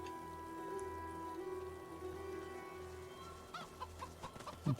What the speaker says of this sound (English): we're going to talk to the chickens